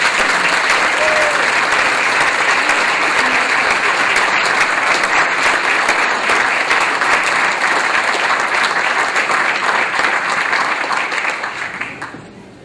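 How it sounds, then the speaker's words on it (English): A large audience claps steadily for alumni award honorees at an evening ceremony, a dense, close wash of applause holding for about ten seconds before tapering off. "give all the honorees another round of applause"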